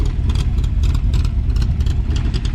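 A Factory Five MK3 engine fitted with a milder Comp Cams roller cam idles close by, a loud, steady, lumpy rumble with a deep menacing burble and no pauses.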